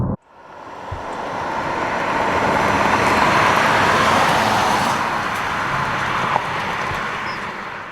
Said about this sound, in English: Under hard acceleration, the engine can be a little bit intrusive